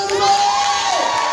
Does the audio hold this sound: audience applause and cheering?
yes